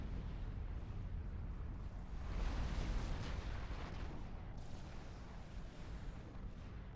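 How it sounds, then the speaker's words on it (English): Fortified artillery bombards a base in the real-time strategy game Supreme Commander 2, a steady rumble of heavy, overlapping blasts that swells briefly midway before settling back into a dense, continuous barrage with no talk. "Unknown Desire going at them with the fortified artillery"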